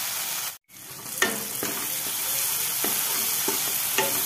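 Spice paste for a fish curry sizzles and fries in a pan while a spoon stirs it, making scattered scraping knocks over a steady hiss after a brief gap in the sound.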